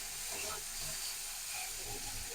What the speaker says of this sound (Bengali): এবার আমি ওই তেলের মধ্যে করলাটা ভেজে নেব।